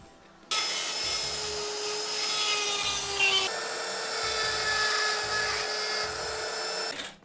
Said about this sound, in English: So what we'll do now is we'll use a Dremel.